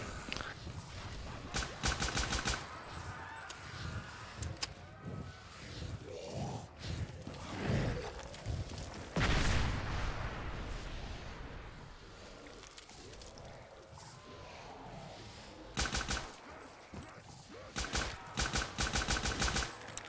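In Black Ops 3 custom zombies, an FAL rifle fires in rapid bursts and single shots, loud and close. Grunts and other game noises come between the volleys.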